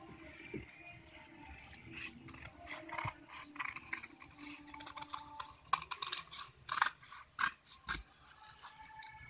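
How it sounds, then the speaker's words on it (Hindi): Scissors snipping through extra buckram fabric while shaping a paan-style front neck pattern, a run of close, crisp clicks and crunchy cuts that grow louder and more rapid toward the end, with no talking. "अब मैं इस एक्स्ट्रा बुकरम को पहले कट करूंगी।"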